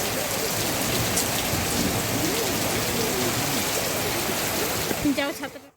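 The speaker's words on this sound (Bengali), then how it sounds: "ওই জন্য পাটফুট পাটফুট করে টালির উপর আওয়াজ হচ্ছে" Hailstones mixed with heavy rain patter steadily on a tiled roof, a dense, continuous drumming close by that fades out at the end as a voice speaks briefly.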